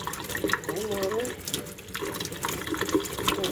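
Warm water runs from a kitchen tap in a continuous splashing stream, with a person talking over it.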